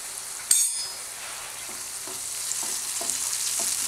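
Spicy tomato sauce with white wine sizzles steadily in a pan while a spoon stirs it, a sharp clink of utensil on the pan near the start and soft scraping strokes through a continuous hiss.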